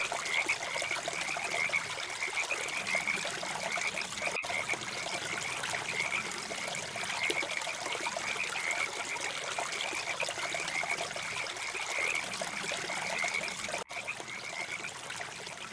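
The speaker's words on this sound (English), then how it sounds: "We hear Sierran tree frogs in the background" A dense chorus of Sierran tree frogs croaking continuously over a trickling stream at Monte Bello Preserve in winter, steady and moderately loud throughout.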